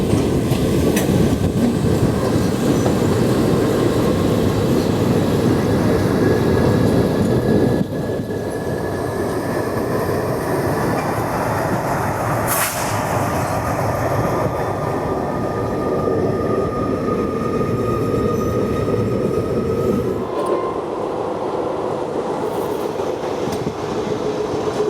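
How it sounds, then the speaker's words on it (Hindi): A WDM 3D diesel locomotive rumbles steadily during rake shunting, heard close and loud from inside a train with wheel clatter and a brief squeal, the engine drone dropping in level partway through. "इस रेक शंटिंग की वजह से हमें कम से कम WDM 3D का साउंड सुनाई देगा"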